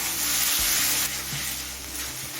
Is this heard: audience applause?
no